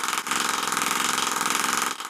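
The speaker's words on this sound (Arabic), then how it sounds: "الضغط بيتنظم بس ده بيخلي الموتور يشتغل بنبضات" A homemade air-powered pneumatic motor with a syringe piston runs with fast, regular pulsing chuffs, a steady close mechanical buzz that briefly dips at the start and near the end.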